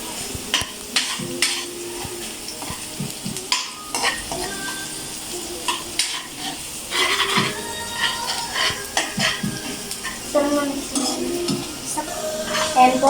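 Garlic sautés in a pan for adobong manok, sizzling steadily while a spoon scrapes and clanks against the metal in repeated stirring strokes.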